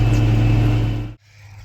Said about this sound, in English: you can probably hear that tractor in the background.